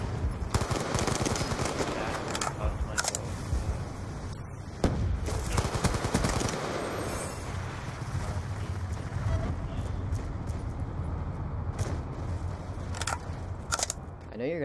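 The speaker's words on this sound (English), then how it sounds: "There's a gun battle!" Gun battle in Black Ops 2, with rapid bursts of automatic fire and sharp single shots scattered across the stretch, some loud and close, others more distant, mixed with excited talking.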